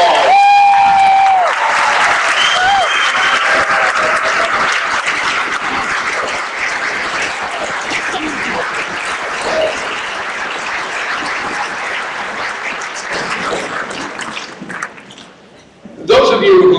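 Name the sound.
audience applause at a concert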